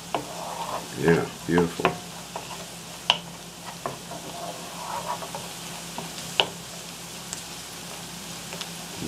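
Garlic and onion frying in a pan for a pheasant-back mushroom dish, a soft sizzle running under stirring scrapes with a few louder clanks early on, and a brief spoken remark partway through.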